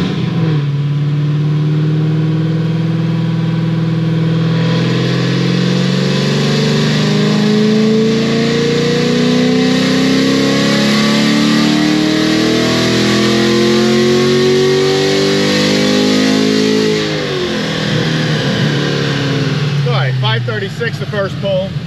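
An LT1 Camaro built with new rods, pistons, heads and cam makes a dyno pull: a loud engine climbs steadily in pitch for about seventeen seconds, then the revs drop away sharply.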